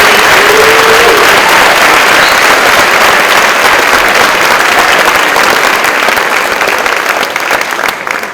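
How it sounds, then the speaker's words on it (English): Sustained audience applause at an honors scholarship awards ceremony, a dense, loud wash of clapping from a large crowd that holds steady for several seconds before starting to thin out at the end. "let's give another round of applause for Stacy, Max, and Brady"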